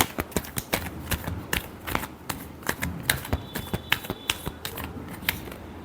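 Tarot cards being shuffled by hand, a rapid run of crisp riffling clicks and flutters that goes on steadily, close and alone without speech.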